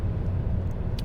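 A 2018 Honda Jazz (Fit) Dynamic engine drones steadily and loudly as it revs hard after a drop of several gears to accelerate, with a low continuous hum from inside the car and a brief higher whine near the end.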